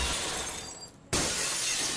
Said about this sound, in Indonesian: Kayak suara kaca.